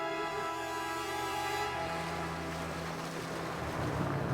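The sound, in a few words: airboat gliding over water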